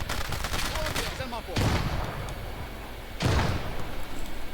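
Bursts of .50 cal machine gun fire from a Jeep in the WWII strategy game Gates of Hell, with repeated sharp heavy shots and two loud blasts, mixed with battlefield noise.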